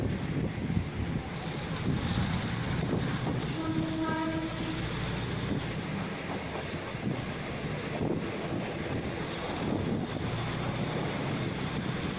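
A Bangkok suburban train on the Bang Sue–Taling Chan line rumbles steadily along the rails with a constant low roar, approaching Bang Son station, and a horn sounds briefly partway through.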